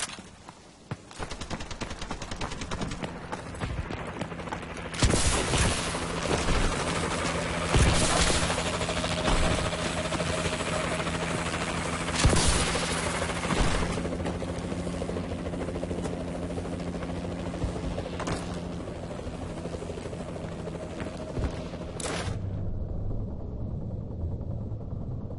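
A Warbird aircraft in Call of Duty: Advanced Warfare gives assist fire, a steady helicopter-like rotor drone broken by repeated bursts of heavy gunfire and blasts over about twenty seconds before cutting off.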